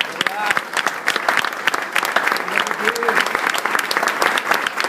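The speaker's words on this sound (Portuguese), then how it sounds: "Aplauda ao Senhor mais uma vez" A church congregation claps for the Lord at a Feast of Tabernacles service, rapid sharp handclaps building into a thick steady round of applause, with voices calling out beneath it.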